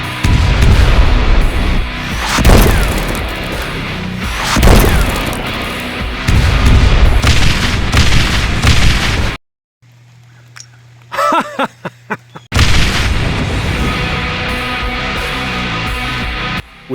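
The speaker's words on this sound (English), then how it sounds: "Galvin does not hesitate to pass his directions to Magnus, which has been hungrily standing by for any fire mission." Artillery fire and explosion effects for a 1:18 scale action figure war game: heavy booming blasts and bursts roll on continuously, cut by a brief near-silent gap with a low hum and a few sharp pops before loud blasts resume.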